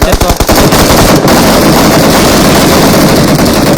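Video game gunfire, a rapid burst of loud automatic shots at the start followed by dense, harsh in-game noise throughout, very loud and close.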